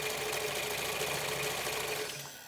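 A sewing machine stitches bias binding onto a fabric face covering, its motor running in a steady continuous whir with a fast needle patter, then slowing and winding down near the end.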